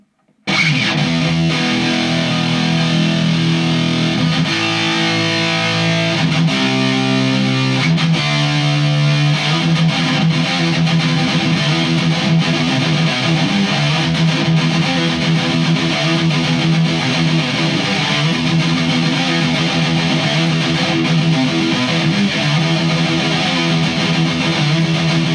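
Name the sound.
Dean ML electric guitar played through distortion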